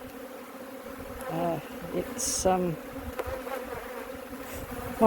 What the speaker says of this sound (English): Oh, look, there's bees all over there.